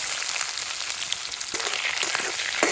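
Onions fry in hot oil in a wok for a village-style desi chicken curry, making a continuous close sizzle with a few sharper crackles and pops near the end.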